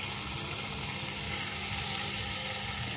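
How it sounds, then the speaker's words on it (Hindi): Chopped ridge gourd peels, half a kilo, drop into a pan of garlic and chilli chutney that is already frying, giving a steady loud sizzle and crackle for the whole stretch with no talking. "लहसुन मिर्चे की चटनी अच्छे से भून चुकी है, अब इसमें हम डालेंगे तुरई के छिकल।"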